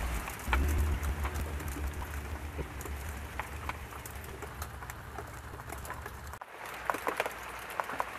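Steady rain patters on a sailboat with scattered drips and a low rumble underneath, briefly cutting out before resuming.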